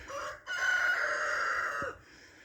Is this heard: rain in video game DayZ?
no